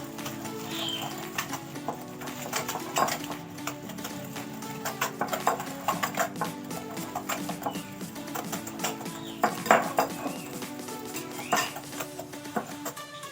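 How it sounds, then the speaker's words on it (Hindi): Sugar and ghee are mixed with a beater for nan khatai, giving steady, close scraping and clattering against a bowl in an irregular rhythm throughout. "इसको थोड़ा सा मिक्स कर लेंगे इससे बीटर की मदद से, बिल्कुल ही मिक्स हो जाना चाहिए चीनी और घी।"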